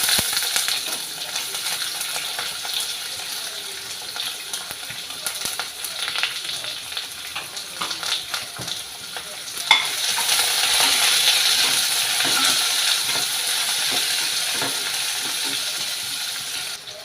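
Chopped onion pieces fry in a pan with a continuous close sizzle, jumping louder around the middle as the pieces land and hiss, then holding a bright, steady crackle to the end with no talk.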